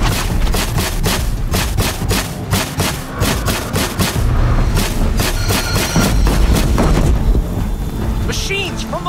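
Rapid, repeated booming cannon shots in Horizon Zero Dawn, in a fast irregular barrage, loud and close, with battle noise around them.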